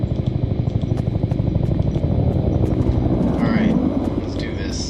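A helicopter arriving in the video game Peridium, a loud rhythmic rotor chop with a low engine drone, steady and close, while a voice talks over it.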